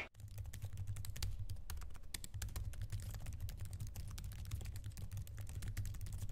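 Rapid, continuous typing on a Samsung Galaxy Book S laptop's low-noise keyboard, soft clicky keystrokes in a busy, even rhythm, heard up close with a low hum beneath.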